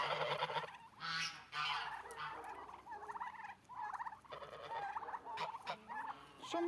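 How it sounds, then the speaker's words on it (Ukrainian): Domestic geese and ganders honk loudly and close by in a farmyard, a flock giving repeated harsh nasal calls in quick overlapping bursts. "і гусі."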